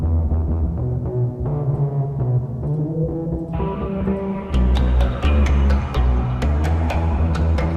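In Ableton, low bass frequencies run through distortion and then into reverb, giving a thick, droning, throbbing tone. Brighter sharp hits join partway through, and the whole passage plays loud and continuous without speech.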